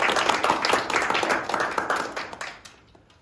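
A small group at a school reading-debate event applauds an SBS cameraman, a burst of dense hand clapping that swells briefly and then fades out over a few seconds.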